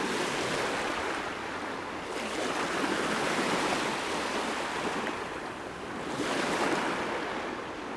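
Ocean waves washing onto a Malacca beach, a steady broadband roar of surf that swells and recedes in slow surges, close and fairly loud with no voices.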